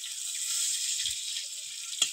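Onion and garlic sizzling in a pan with cumin for a Bengali shrimp and fig curry; a steady, soft frying hiss runs throughout, with a couple of faint stirring knocks near the end.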